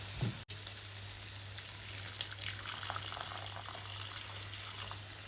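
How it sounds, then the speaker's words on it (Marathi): Lukewarm water poured into a cashew curry gravy that has been fried until its oil separates, giving a steady, fairly loud hissing sizzle with a soft rushing liquid texture throughout and one brief dropout near the start. "आता याच्यामध्ये आपण कोमट पाणी घालू"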